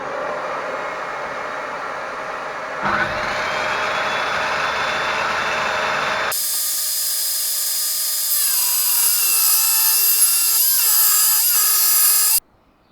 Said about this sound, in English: using the danger saw again